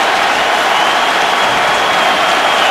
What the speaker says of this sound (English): The Raiders have done a nice job handling the crowd noise